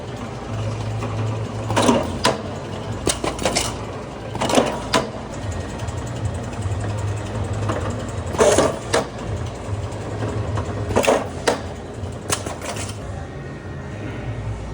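A Codi PTA 303 canning machine runs through a fill cycle, a steady mechanical hum broken by repeated sharp clattering bursts at irregular intervals, close and fairly loud with no talking.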